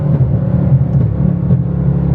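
A supercharged 2024 Ford Mustang GT running on E85 drones loudly and steadily close by, with faint irregular exhaust pops mixed into the rumble.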